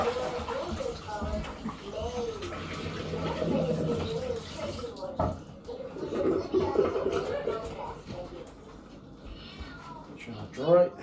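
Cats fight in a nearby room, with drawn-out yowls and meows rising and falling throughout, heard faintly under a person talking close by and some background water noise.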